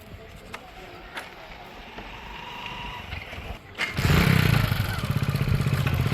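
A motorcycle engine starts up partway through and keeps running close by, loud and rumbling, after a quieter stretch of background noise.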